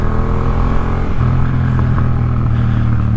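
Yamaha MT-07 motorcycle engine rumbles close up, a loud throaty drone whose pitch shifts as the revs rise and fall through the gears, continuous and with no voices.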